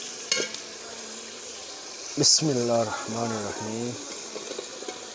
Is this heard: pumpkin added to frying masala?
yes